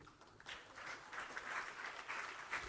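Steady applause from a crowd, a dense patter of many hands clapping at moderate volume throughout.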